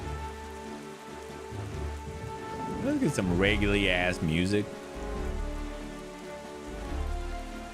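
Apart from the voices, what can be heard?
rain and storm in Zelda Wind Waker video game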